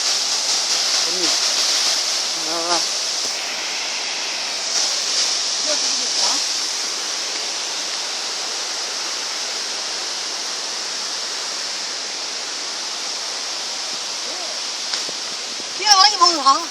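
Mangala waterfall in the Pachamalai Hills sends up a steady, loud hiss of rushing, falling water that lasts the whole clip, with a few voices faintly audible underneath.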